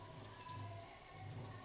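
Heavy rain pours steadily on the way to a prayer gathering in Machavaram village, a soft continuous patter at low level with no talking.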